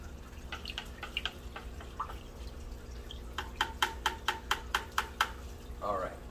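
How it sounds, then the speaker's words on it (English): Water conditioner being stirred into aquarium water, a series of quiet sharp clinks and splashy taps, first scattered then a quicker rhythmic run of strokes, close and faint with low background hum. "we want to make sure that we mix in our water conditioner"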